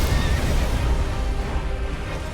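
A horse neighs in the Elden Ring video game, the whinny blended into dense, continuous game noise with a low rumble and no clear pause.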